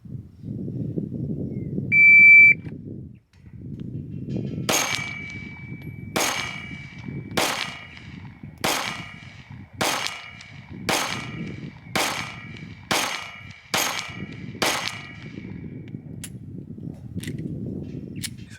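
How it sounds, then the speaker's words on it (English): Pistol fire at an outdoor range, ten rounds loaded and shot until the slide locks back: a beep, then about nine sharp shots spaced roughly a second apart, with a faint ringing tone between them. "I got 10 rounds loaded, so I'll shoot till the slide locks back"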